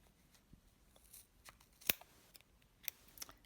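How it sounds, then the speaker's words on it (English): Sharp scissors cut through a thick bundle of yarn for a color block pom-pom, giving a few faint, scattered snips and clicks close by against a quiet background. "a really nice sharp pair of scissors really will help"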